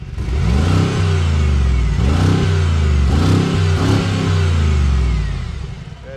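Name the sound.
Mercedes-AMG G 63 V8 engine revving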